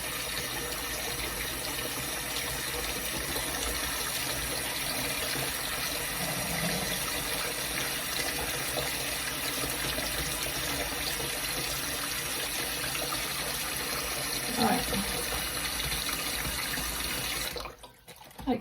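Tap water runs steadily into a sink to cover wrapped food for defrosting, a constant close rushing stream that cuts off abruptly near the end, with no voices.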